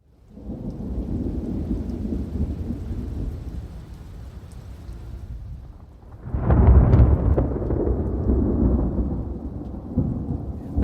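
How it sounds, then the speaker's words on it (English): Thunder rumbles through a rainstorm in Big Bend, Texas, a long low roll that fades, then a second louder crack and rumble over steady rain, with no talk. "The thunderstorm rolled in."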